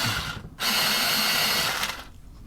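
A pencil being sharpened in a small electric sharpener, with a loud, close grinding whir that starts abruptly, runs steadily for about a second and a half, then stops.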